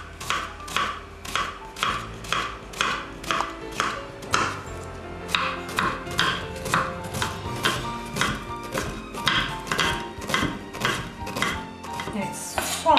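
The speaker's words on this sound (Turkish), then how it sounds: "Bir adet kuru soğanımız var demiştik. Bunu elimizden geldiğince ince doğruyoruz." A dry onion is finely chopped with a knife on a board, quick regular thuds in bursts with short pauses, close and crisp, a voice talking faintly beneath.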